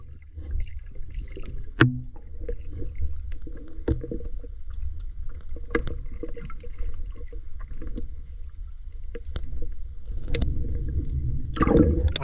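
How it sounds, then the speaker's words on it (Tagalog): Strong river current flowing steadily at night during fishing, a continuous low rushing wash with occasional knocks and splashes against a small boat, no talking. "Ang tubig malakas sa agos."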